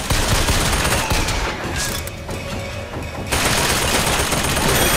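Dense, sustained gunfire from a Bioshock Infinite firefight, loud and continuous with rapid overlapping shots, a brief dip in intensity midway before the barrage resumes at full force.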